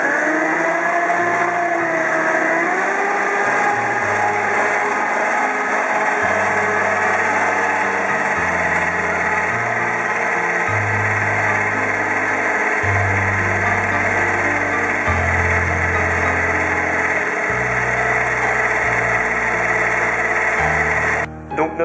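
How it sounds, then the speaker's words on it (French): An electric mixer beats yogurt cake batter, a steady loud motor whir running without a break for about twenty seconds, its pitch shifting in stepped changes as the speed varies. "On met le tout dans le batteur."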